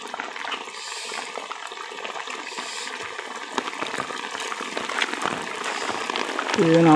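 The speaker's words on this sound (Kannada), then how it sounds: "ಹಾದಿ ಆಗಲ್ಲ ನೀರು ಹರಿಯಾಕತ್ತು ಬಿಟ್ಟೈತಿ" Rainwater runs along a rural footpath after days of rain, a low continuous trickling and gushing wash that grows louder toward the end, with faint background noises mixed in.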